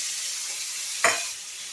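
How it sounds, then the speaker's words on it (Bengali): Shrimp fry in hot oil in a pan for a shrimp and spinach curry, giving a steady high sizzling hiss, with a brief louder crackle partway through. "এখানে চিংড়ি মাছগুলো আমি ভালো করে ভেজে নেব"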